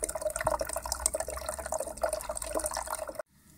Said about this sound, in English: here's my water feature